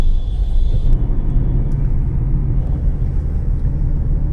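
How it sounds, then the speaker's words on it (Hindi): A Maruti Suzuki Ciaz rumbles along on a test drive after a general service and clutch replacement, with a steady low engine and road drone heard from inside the cabin and a brief high whine at the start. "तो फाइनली मैं गाड़ी चला के देख रहा हूँ"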